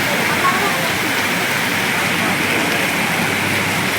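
Steady rain falls at Harishankar Temple in Balangir, a dense, even hiss that stays loud and close throughout without a break.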